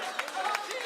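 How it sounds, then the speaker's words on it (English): Wedding guests give a brief round of applause for the winners of the catch, a short burst of scattered clapping heard close by while a voice talks over it. "let's get a round of applause for our winners who caught the flash drives right now"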